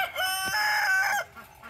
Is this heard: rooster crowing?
yes